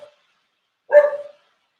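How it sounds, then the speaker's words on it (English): A blonde cocker spaniel gives one loud, close bark, a single sharp burst that trails off quickly, with silence around it. "he usually doesn't bark that much"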